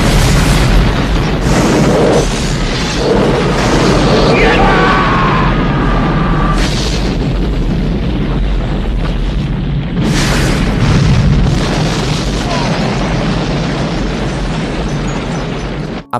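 An airplane explodes in a loud, sustained roaring blast with dense rumbling energy, swelling in bursts and holding steady throughout with no pauses.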